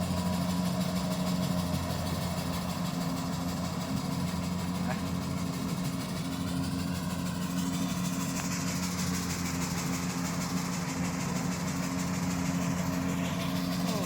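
A Kubota combine harvester working a rice field, its engine droning steadily with a low, even rumble and faint mechanical whine while it is driven, continuous throughout.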